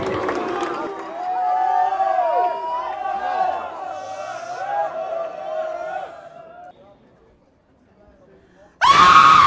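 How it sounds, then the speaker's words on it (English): A crowd erupts in a shouting contest, many voices screaming at a weird high pitch for several seconds before dying away, then a sharp burst of noise cuts in at the end. "all did this really weird high-pitched scream"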